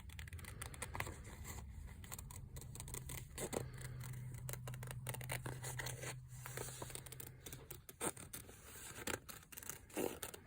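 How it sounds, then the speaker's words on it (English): Scissors snip steadily around the shapes of hand-marbled paper being cut out as a collage background, producing a close run of soft crisp cuts and paper rustles with a low hum beneath. "It's kind of cool to cut around the shapes of the marbling."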